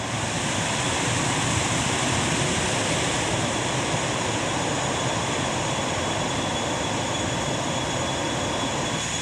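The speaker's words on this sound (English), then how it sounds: "We are welcome with a waterfall, beautiful one. Very noisy though with the waterfall." A loud, steady roar of rushing water fills the whole clip, dense and unbroken like a nearby waterfall pouring continuously, swollen by heavy rains on the hike to Doi Suthep.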